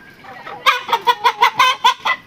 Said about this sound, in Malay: ayam jenis Lomel Brown